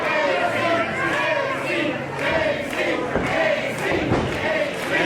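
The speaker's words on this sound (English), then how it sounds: "Fans rallying behind Ferreira, earning respect from this packed house." A packed, sold-out wrestling crowd at an Edmonton LPW event roars and cheers steadily in a large arena, with swells of shouting and a few thuds, while a commentator talks over the noise.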